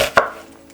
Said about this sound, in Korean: 저는 얇게 썰겠습니다.